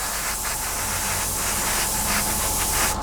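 An airbrush sprays paint onto a 1/48 scale F-14D Super Tomcat plastic model, a steady close hiss of air and paint mist with slight pulsing as the spray passes over the part.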